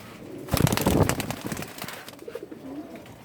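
Male pigeons of good bloodlines, among them khaki Indian kaldam birds, coo in a loft, with a louder burst of mixed cooing and fluttering early on, then softer calls trailing off.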